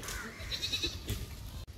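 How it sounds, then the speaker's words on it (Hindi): Goats and young kids bleat at a livestock market in Patna, a few short overlapping calls standing out over steady crowd noise and murmur. "इसमें बकरी भी है और खस्सी भी है"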